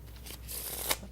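Playing cards riffle-shuffled by a magician during a street performance, a brief close rustling burst that swells near the end, with no talk over it.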